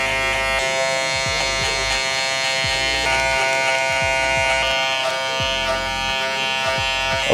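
Electric hair clippers with the lever open cut a guideline on curly hair, a close, continuous motor buzz that wavers slightly as each pass is made.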